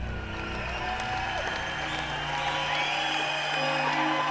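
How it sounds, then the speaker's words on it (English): A large crowd hails a president's inauguration with a sustained roar of cheering and applause, dense and steady from start to finish, with whoops and shouts rising out of the mass of noise. "The crowd just roars."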